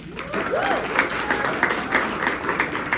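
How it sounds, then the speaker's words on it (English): Audience applause greeting the moderator of a documentary community panel, a steady wash of many hands clapping at close range for about three seconds, with a few voices mixed into the crowd noise. "Give him a round of applause."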